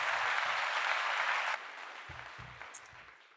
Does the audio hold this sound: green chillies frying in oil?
no